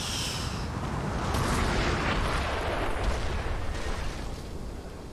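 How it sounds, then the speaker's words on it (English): Artillery cannon fire in the Napoleon: Total War game, a dense, rumbling barrage of booms that stays loud and sustained throughout, with blasts blending into a continuous roar. "Artillery reporting. Fire!"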